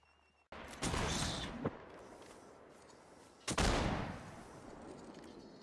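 Musket volleys crack out in a Napoleonic Wars line battle game, with two loud massed firing bursts a few seconds apart, each one trailing into a long rolling rumble and echo.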